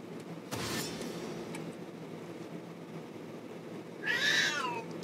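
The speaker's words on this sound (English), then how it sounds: "Gotta slow blink at my cat." A pet cat meows once, a short clear call near the end, over faint room noise with a soft thump earlier.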